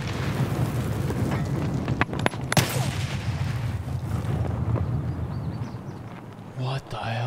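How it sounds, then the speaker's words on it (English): A grenade goes off in Escape from Tarkov, a muffled boom and sharp cracks within a dense, rumbling game soundscape with a voice talking over it. "Someone threw a hot grenade right."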